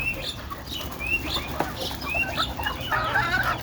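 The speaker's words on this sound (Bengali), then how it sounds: "এই যে দেখেন মুরগির খাবার দিয়ে দিচ্ছে" Chickens being fed at feeding trays give off scattered, fairly close clucks and short squawks over a continuous farmyard background, with occasional wing rustles.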